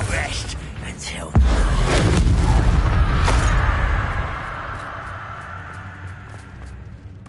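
A Bombarda spell explodes in Hogwarts Legacy inside a castle keep: one sudden loud boom, then a roaring, crumbling rumble that fades over several seconds, after a spoken line.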